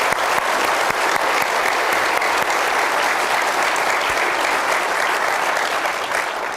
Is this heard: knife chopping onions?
no